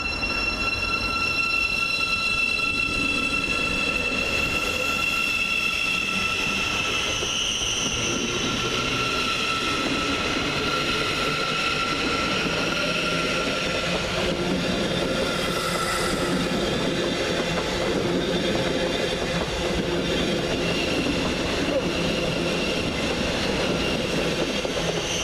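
A Thameslink Class 700 train, unit 700-134, passes through Peterborough station, its loud steady rumble and rail noise running throughout with sustained high wheel squeal tones above.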